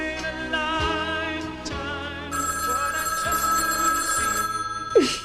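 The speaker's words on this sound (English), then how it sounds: "The phone's ringing." A telephone bell rings in a domestic drama scene, sounding clearly over a soft music bed with sustained tones and a low repeating pulse.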